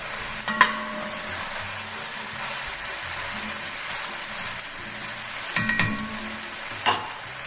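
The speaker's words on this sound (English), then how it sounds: "I'm going to add my celery and my carrots. And just stir that up a little bit" Celery and carrots sizzle in a pot for beef stew, with a steady soft frying hiss and a few brief clusters of spoon clatter as they are stirred.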